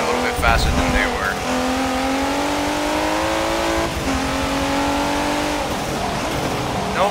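A Nissan race car in the video game Forza Motorsport 7 revs hard and climbs through the gears, its engine note rising and dropping at each shift with a brief tire squeal. Someone talks over the engine.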